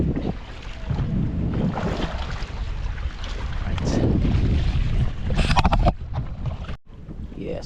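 A motorized boat's engine drones steadily beneath heavy wind buffeting on the microphone, a loud continuous rumble with a brief dropout near the end and a short spoken word.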